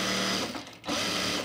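A sewing machine stitches men's chino pants at a thick seam near a belt loop, whirring steadily with a brief dip in the middle, loud and close, with no talking.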